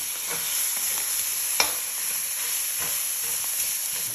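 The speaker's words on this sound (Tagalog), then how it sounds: "nilagay ko na sa pan itong giniling. Halo-haloin ko lang siya hanggang mawala yung water niya." Ground meat stirring and sizzling in a frying pan as its water cooks off, a steady close hiss with a few soft spatula scrapes and one sharper tap, no talking.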